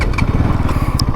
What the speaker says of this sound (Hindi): बाइक अपनी स्टार्ट हो चुकी है